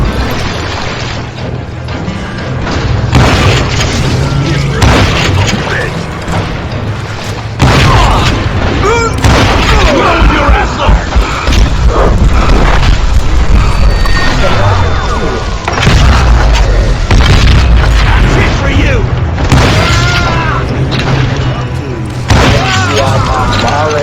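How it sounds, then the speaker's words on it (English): Gunfire from the video game Call of Juarez: Gunslinger rains down in loud, heavy booms and shots that keep coming, while a voice narrates over the barrage. "a fusillade of bullets come raining down from on high"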